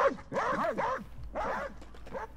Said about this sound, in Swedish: Vad är det som skäller? Är det en hund?